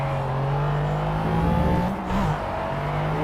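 A McLaren F1 race car's engine in the racing game Project CARS at Le Mans, a steady high droning whine with a brief pitch dip and recovery as the car takes a turn, heard alone.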